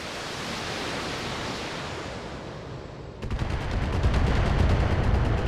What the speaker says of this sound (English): That's quite a missile spread.